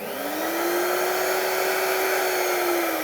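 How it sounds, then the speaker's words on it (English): A museum vacuum cleaner running at high suction for cleaning collections: it starts with a rising motor whine that settles into a loud, steady, close-up drone with broad airy rushing noise. "if I just switch this museum vac on, you'll hear it's at quite a high suction"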